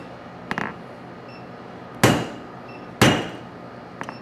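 A hammer strikes a Holland anvil during forging: two loud, sharp metallic rings about a second apart, each decaying quickly, with softer taps before and after in an otherwise quiet shop.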